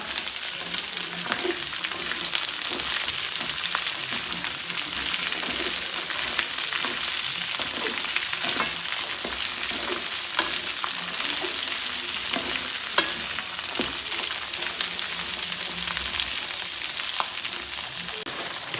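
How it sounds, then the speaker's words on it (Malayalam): Garlic cloves for a pickle frying in oil give a dense, even sizzle that holds steady throughout, with faint stirring scrapes underneath and no voices. "വെളുത്തുള്ളി ഒരു ഇലി എണ്ണയിൽ നല്ല വാടിയിട്ടെടുക്കണം"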